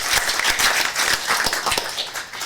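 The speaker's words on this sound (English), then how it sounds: "We can give a round of applause." A short burst of applause from a small group at a city council meeting, scattered hand claps rising and falling steadily for a couple of seconds.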